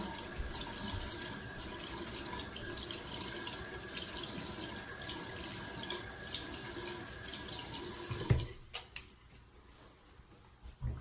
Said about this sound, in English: rinse off some cold water